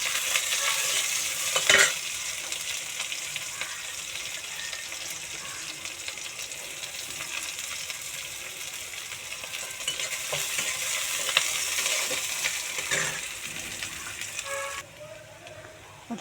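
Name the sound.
onions frying in a pan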